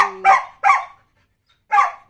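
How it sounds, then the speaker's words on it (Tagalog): A dog barks repeatedly at a female dog in heat, giving three loud, close barks: two in quick succession, then a pause before the third. "Kahol ng kahol."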